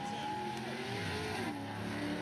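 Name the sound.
drag race cars, including an early 80s Z28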